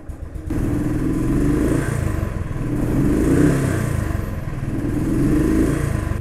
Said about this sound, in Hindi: सर्दी का टाइम है बाइक थोड़ा सा टाइम लेगी स्टार्ट होने में